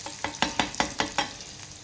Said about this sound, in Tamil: நான் உங்கள் வெங்காயம் போட்டு நல்லா வதக்கிறேன் பாருங்கள்